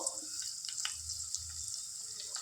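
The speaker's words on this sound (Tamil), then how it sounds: "இது கோல்டன் ஃப்ரை ஆற வரைக்கும் இப்படி திருப்புங்கோ" Paneer cubes fry in a pan for a dry capsicum sabji, giving a steady, moderate sizzle with a few soft scrapes as they are turned.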